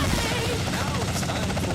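Helicopter flying in Grand Theft Auto San Andreas, a dense continuous rotor and engine drone, loud and steady, with voices talking over it.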